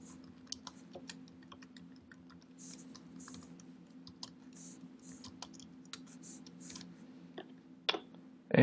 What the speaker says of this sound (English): you're gonna type in a await function